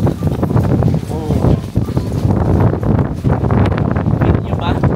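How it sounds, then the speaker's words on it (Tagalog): Strong wind buffets the microphone on a red brick old street in Lukang, Taiwan, a loud, gusty rumble and roar that rises and falls throughout while voices talk faintly underneath. "So windy."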